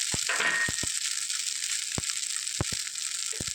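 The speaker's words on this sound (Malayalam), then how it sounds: "ഇത് നന്നായിട്ട് ഫ്രൈ ആയി വന്നിട്ടുണ്ട്" Leftover puttu and egg fry in a pan with a continuous close sizzle, broken by several sharp clinks and taps of a utensil against the pan.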